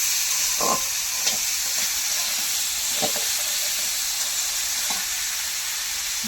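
Cut potatoes frying in oil over a low flame, a steady broadband sizzle with occasional soft stirring knocks, close and continuous with no talk.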